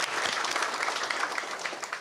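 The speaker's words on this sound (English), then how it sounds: "Please join me in giving a round of applause." Audience applause at a UN C24 seminar on Pacific decolonization hosted by Timor-Leste, a steady, dense patter of many hands clapping at moderate distance, filling the whole moment without voices.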